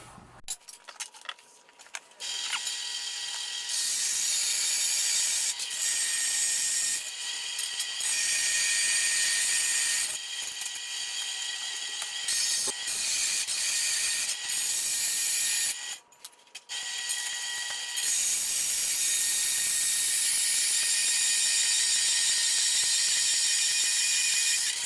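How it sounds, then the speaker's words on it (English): A bandsaw set up in table mode cuts snowblower skid shoe plates, giving long stretches of loud, steady high-pitched grinding and whine broken by several short pauses between cuts, with no talking. "got my bandsaw set to table mode"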